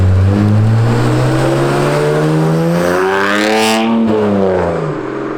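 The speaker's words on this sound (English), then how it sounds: "you get some great sounds out of the car on overrun, even on acceleration" Turbocharged BMW 335i with the N54 inline six-cylinder engine pulling hard under acceleration, a loud, close engine note climbing steadily in pitch for several seconds before easing off near the end.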